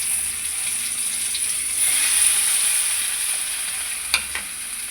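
Boiled potatoes go into very hot oil and set off a loud, close sizzle that holds steady, with a couple of sharp clicks from a utensil near the end.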